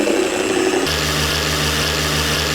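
A polishing machine on low speed works compound into the paint of a 20-year-old Golf R32, giving a steady close motor whine with a low hum that settles in partway through.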